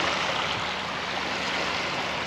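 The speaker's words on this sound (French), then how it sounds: "nos petites vagues nous poussent doucement vers le port" Small waves on the Bassin d'Arcachon near Cap Ferret gently carrying a boat toward the harbour; a steady, soft wash of water and breeze continues without interruption.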